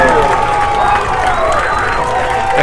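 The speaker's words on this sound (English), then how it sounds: "The crowd is going nuts." A spectator crowd at a high school soccer game roaring and cheering right after a late equalizing goal, a dense, loud wash of shouts and noise with a voice calling out over it.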